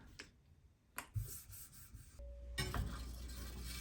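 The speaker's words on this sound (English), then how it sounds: "I'm going to start on the 1K stone with this one" A large kitchen knife is being sharpened on a 1000-grit whetstone, giving a few soft, close scraping strokes and rasps with brief taps between them, followed by a steadier rub at the end.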